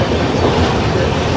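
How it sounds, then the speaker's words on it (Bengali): The Rupasi Bangla Express pulling out of Bankura Junction, a loud, close, steady rumble of wheels and carriage noise filling the short span without pause. "ট্রেন আমাদের ছেড়ে দিল বাঁকুড়া জংশন।"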